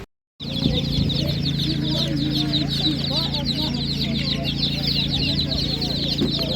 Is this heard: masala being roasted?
no